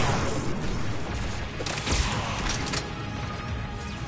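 Enemy turrets in Mass Effect 3 fire continuously during a combat scene, a dense, steady roar of rapid gunfire and booms with no talking.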